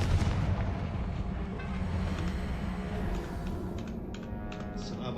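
Confringo fire spell cast in the Hogwarts Legacy video game, a dense blasting burst followed by crackling impacts and rumbling debris, loud and continuous over several seconds.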